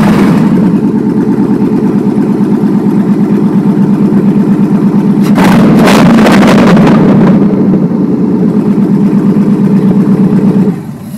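Jeep Wrangler with an EZ V8 engine swap running after startup, a loud, close, steady lumpy idle with a brief rev in the middle, then cutting off at the end, no talking.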